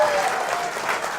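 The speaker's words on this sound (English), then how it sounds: "Round of applause" A round of applause from an audience at a Baltimore Ravens fan gathering, dense and steady clapping that fills the whole short moment with no break.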